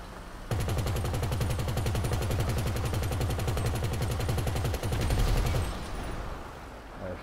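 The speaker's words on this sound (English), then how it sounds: "know how to shoot the minigun now" A minigun in a video game opens up after a short pause, a loud continuous buzzing stream of rapid-fire rounds lasting about five seconds before cutting out to quieter background.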